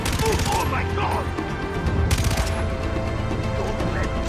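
A light machine gun fires in the video game Far Cry 3 in loud, sustained automatic bursts with a dense rapid rattle throughout. Game ambience fills the background.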